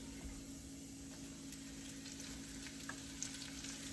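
A soft, steady frying hiss from a pan of garlic with spinach, low and even with faint clinks, a constant hum beneath and no talking.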